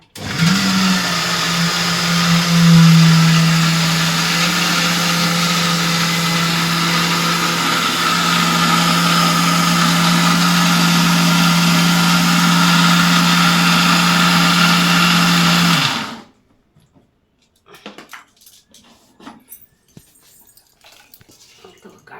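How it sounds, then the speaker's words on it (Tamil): A kitchen mixer grinder grinds food into a thick paste, a loud steady motor whine running close for about sixteen seconds before cutting off abruptly, followed by faint clattering. "இதை வந்து கொஞ்சம் திக்காக அரைக்க போகிறாங்க"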